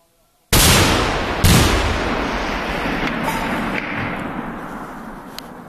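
A recoilless rifle fires in an outdoor military exercise with a sudden, very loud blast. A second crack follows about a second later, then a long, slowly fading rumble rolls on.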